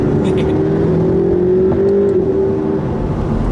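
A McLaren supercar engine hums and revs steadily, heard from inside the cabin, a low droning growl with a rising whine, with someone talking over it.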